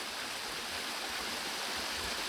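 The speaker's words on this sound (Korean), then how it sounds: "개울이 아유 시원하다" A forest stream flows steadily through the Hwadam forest garden at Gonjiam, a continuous, even rushing of water close by with no pauses or voices.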